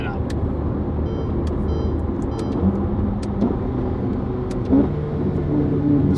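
A Ferrari F8 Tributo with a titanium exhaust and free-flow front pipes drives past in a steady, close, loud rumble, with the engine note holding fairly even and faint clicks on top.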